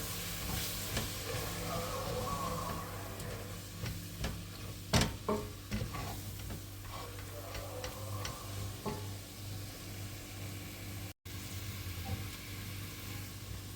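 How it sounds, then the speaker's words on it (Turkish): Four spoonfuls of flour toast with vegetables in a pot for a spicy winter soup, a soft low sizzle under scattered spoon scrapes and ticks, one sharper knock midway, quiet and close. "Bunu da güzelce kavuralım. Sebzelerle birlikte kavrulsun."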